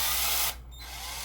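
A power drill whirs steadily at close range, then cuts out abruptly halfway through and restarts at a slightly lower pitch.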